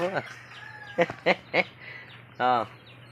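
A chicken clucks and squawks in a few short bursts close by, with a longer cackle near the end.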